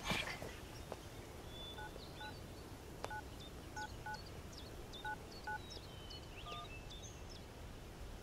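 A mobile phone number is dialed, a run of DTMF keypad tones in short groups of beeps that stands out clearly over faint room noise, with chirping in the background.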